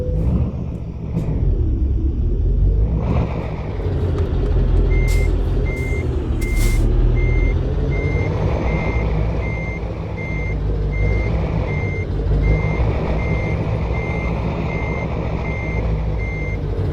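Steady electronic reversing beeps repeat at an even pace from a big rig backing up in American Truck Simulator, layered over a constant low diesel engine rumble.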